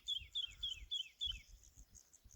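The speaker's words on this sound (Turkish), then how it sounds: "Kuş sesleri." Several birds chirp in quick repeated high notes, close and fairly faint, over a soft low rumble of background noise, at a quiet highland lakeside campsite in Turkey.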